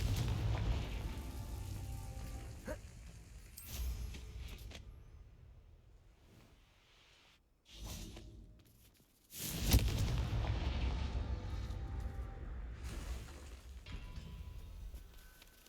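A Confringo fire spell in the Hogwarts Legacy game makes booming blasts: a heavy explosion near the start, another around the middle, and a loud burst late that rumbles out with crackling debris.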